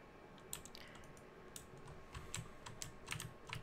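Computer keyboard arrow keys pressed during a game-jam game based on Coraline, quiet irregular clicks and taps in bursts over low room noise.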